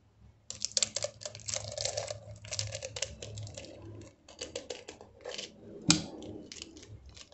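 Scissors snipping through folded paper during a holiday recycling craft, a run of close crisp cuts with short pauses, steady rustling of the paper between snips and one sharper snap near the end.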